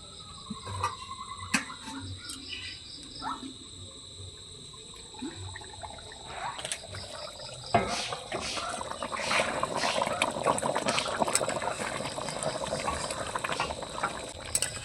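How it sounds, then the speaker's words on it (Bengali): Chili chicken simmering in an open pan once the lid comes off, a steady crackling bubble that thickens and grows louder after a clatter midway, with a high constant whine running throughout. "আমি চিকেনটাকে রান্না করে নিয়েছি এখন ঢাকাটাকে তুলে নেবো"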